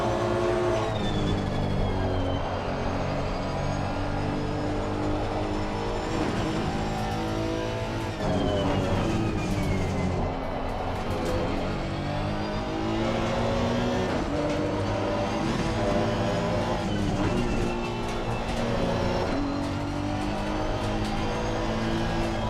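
A race car in Assetto Corsa Competizione brakes and accelerates continuously, its engine note rising and falling through gear changes and revs, loud and up close, with no talking.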